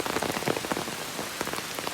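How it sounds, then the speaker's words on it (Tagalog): Steady rain falls in the Litalip area, a dense, continuous hiss of drops striking surfaces with scattered louder patters, close and enveloping with no voices. "ito ngayon maulan sa amin"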